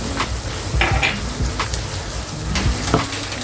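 Green chilies frying in a pan for sundakkai (turkey berry) pickle, with a steady sizzle and scattered clinks of a utensil against the pan, no talking.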